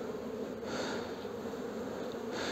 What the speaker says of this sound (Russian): Да, пчела немножко вышла.